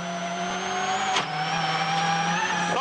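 Rally car racing on snow in the video game WRC 10, its engine holding a loud, steady high-revving drone with a short dip in pitch midway, alone without talk.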